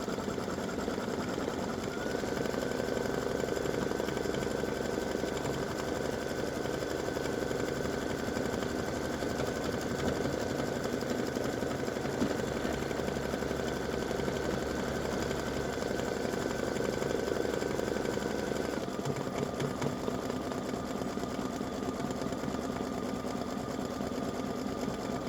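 A machine embroidery unit stitching a dreidel applique side seam split design runs with a steady, even mechanical whirr and rapid needle chatter, alone and at moderate volume for the whole stretch, shifting pitch slightly near the end.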